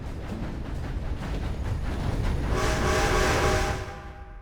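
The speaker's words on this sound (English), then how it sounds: "The train simply appears 100 meters away from us, and, rushing at high speed, it just crashes into us." Train in the Red Dead Redemption 2 video game rushing at high speed toward the player, a rumbling rail clatter that builds steadily with a horn-like tonal blast near the end before fading, no voices.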